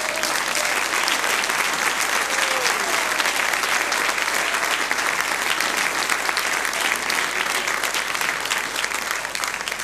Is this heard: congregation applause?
yes